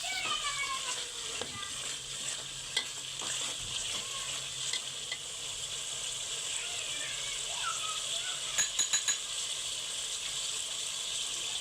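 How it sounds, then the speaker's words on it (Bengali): Onion paste frying and being stirred in a pot while cooking beef biryani, a soft steady sizzle with scraping stir sounds and a few clinks, a person talking at times over it. "এবার আমি একটু নেড়ে চেড়ে নেব।"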